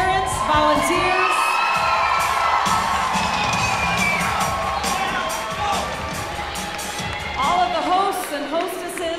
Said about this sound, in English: Since y'all are still cheering, how about we give it up one more time